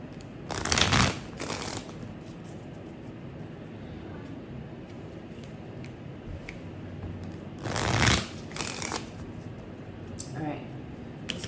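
Tarot cards are shuffled in two brief, close riffling bursts several seconds apart, with quiet room tone between them and a voice speaking softly at times.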